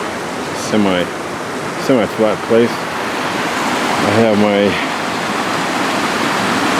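River water flows in a steady, broadband rush beside a riverside campsite, constant and fairly loud under a voice talking nearby.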